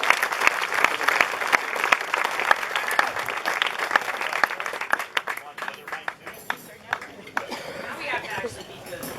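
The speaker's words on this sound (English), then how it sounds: "if we could have a round of applause to pump up the performers" A crowd applauds performers at a tribute event for George Chiala, a dense steady patter of many hands clapping close and loud, easing slightly toward the end with a few voices murmuring underneath.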